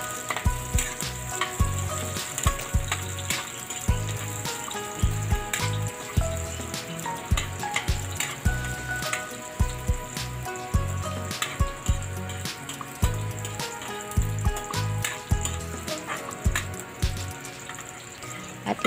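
Onion sautéing in a hot pan for a simple pork offal dinuguan dish, a steady close sizzle and crackle with repeated scraping stirs throughout, no voices.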